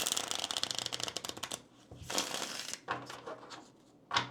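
A deck of tarot cards is shuffled in a rapid riffling flutter that lasts over a second, followed by softer slides and flicks as cards are drawn and laid out, all close and without speech.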